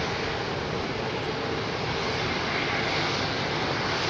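Aircraft with Rolls-Royce Trent 700 engines at London Heathrow Airport, a loud, steady broadband jet roar filling the air without pause, close and continuous.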